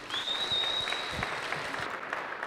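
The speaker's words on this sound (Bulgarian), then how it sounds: "моля аплодисменти за Живко Ангелов" An audience at a talk breaks into brief, steady applause for the speaker Zhivko Angelov, a mid-level clatter of many hands, with a thin high whistle-like tone over the first second.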